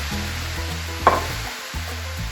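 Taco filling of meat and cauliflower browning in a pan, a steady close sizzle with a brief stirring scrape near the middle and no voices.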